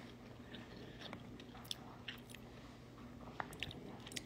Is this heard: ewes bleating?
no